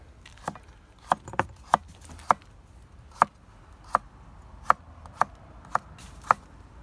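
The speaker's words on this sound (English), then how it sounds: "so we just gonna get it chopping now" A knife chops ingredients for a Jamaican ital stew on a cutting board in a home kitchen, about a dozen crisp, close knocks at an uneven, unhurried rhythm.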